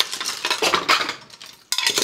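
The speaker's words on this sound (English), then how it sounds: "First thing you do is pile them up so that you have the large dishes on the bottom and then the small things on top." Dishes and chopsticks clatter as they are stacked in a full kitchen sink, with a steady run of close, bright clinks and knocks that briefly drop away before one sharp clatter resumes.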